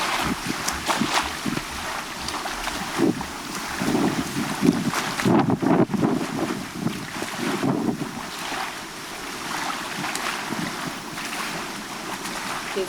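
Ocean waves surge and wash in a steady, breathy roar, swelling louder midway and easing again, with some wind rushing across the microphone.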